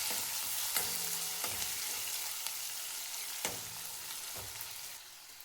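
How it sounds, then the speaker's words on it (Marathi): Onion and cardamom fry in oil with a steady, close hiss of sizzling, broken by a few sharp clicks and scrapes from stirring, and no voices. "कांदा छान असा तेलामध्ये भाजून घ्यायचा आहे."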